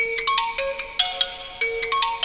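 A phone ringtone plays alone: a bright, repeating electronic melody of quick, chiming notes in close succession, loud and clear.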